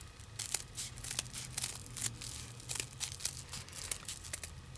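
Scissors snip through a piece of HoneyPOP honeycomb paper for a Tim Holtz Sizzix die project, a steady run of crisp papery cuts and crinkles, close and fairly quiet, with no one talking.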